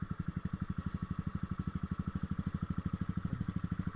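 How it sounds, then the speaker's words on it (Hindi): A Royal Enfield motorcycle engine thumps in a fast, steady rhythm on a snowy road, the regular pulses close and clear with no voices over them. "बड़ा मुश्किल हो रहा है बाइक निकालना यहाँ से, बर्फ में टायर स्किट बहुत कर रहे हैं।"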